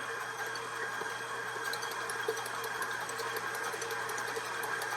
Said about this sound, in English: give it another little turn here with our mixer